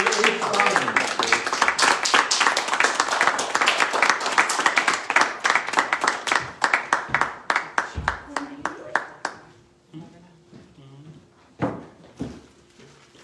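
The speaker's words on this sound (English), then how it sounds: "So would you please give a big round of applause for Natalie H. Rogers." An audience at a poetry reading claps and applauds loudly for several seconds, then the clapping thins to scattered claps before a voice starts speaking.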